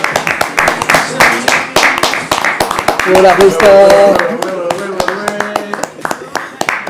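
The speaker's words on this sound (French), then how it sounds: "on accueille l'invité de ce soir, un tonnerre, j'ai bien dit un tonnerre d'applaudissements" Sharp, scattered hand claps ring out on a live French talk show as the evening's guest is welcomed, with a voice talking over them and a short tonal, sung-like passage midway.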